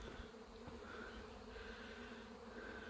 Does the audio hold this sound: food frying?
no